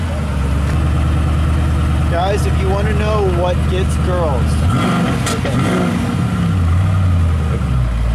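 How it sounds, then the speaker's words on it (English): A Ford Mustang pony car idles with a steady low rumble and a brief rev in the middle, heard up close while people talk over it throughout. "Listen to that Mustang sound."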